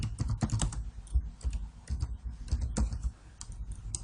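Fingers type HTML code on a computer keyboard in quick irregular bursts of close, crisp key clicks with short pauses, heard alone without talk.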